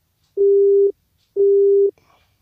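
Two identical steady electronic phone tones sound with a short pause between them while dialing 151 in an offline Android mobile game, loud and clean, followed by a faint brief trailing sound.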